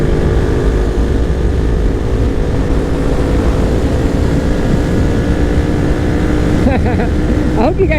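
A Yamaha MT-03 motorcycle with modified parts drones steadily while riding, its exhaust heard through a helmet microphone as a constant loud engine rumble mixed with wind noise, with a brief voice near the end.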